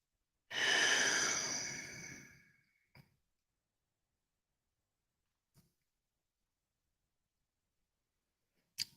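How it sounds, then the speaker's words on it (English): Soft, deep breath drawn near and alone for about two seconds, then fading into near silence broken by a few faint clicks. "Soft, deep breath."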